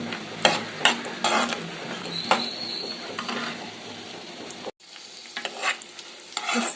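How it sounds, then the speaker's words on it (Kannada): Raisins and cashews fry in a hot pan for vermicelli payasa, giving a soft sizzle broken by repeated scraping stirs and clinks, with a short pause before the stirring resumes. "ಎತ್ತಿಟ್ಟಿರೋ ದ್ರಾಕ್ಷಿ ಮತ್ತು ಗೋಡಂಬಿನ ಇಲ್ಲಿ ಸೇರಿಸ್ತಾ ಇದ್ದೀನಿ. ಸ್ವಲ್ಪ ಕಲರ್ ಚೇಂಜ್ ಆದರೆ ಸಾಕು."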